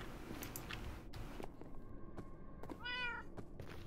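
A cat in Minecraft meows once, a clear mid-pitched call near the end, over a faint background of soft thuds and game ambience; no one speaks.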